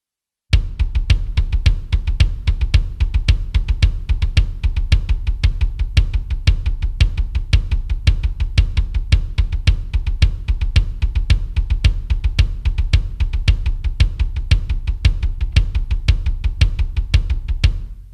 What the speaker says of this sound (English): I'll just do it on the double pedal.